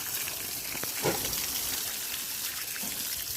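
Water pours and splashes steadily over an old brick foundation being cured on a construction site, a continuous close hissing wash with no talking.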